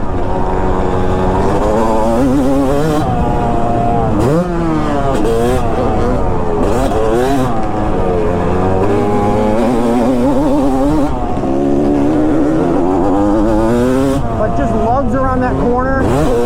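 A Yamaha YZ250 two-stroke dirt bike revs hard while being ridden, its loud buzzing engine climbing and dropping through repeated throttle swells, with a voice talking over it at times.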